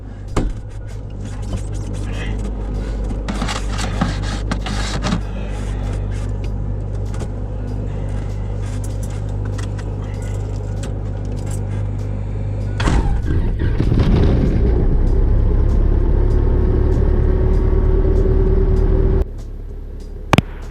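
A Cessna 901 light aircraft's propeller engine cranks, catches and settles into a steady loud drone, with wind noise and a sharp clunk at the end, on a windy, snowy, icy ramp.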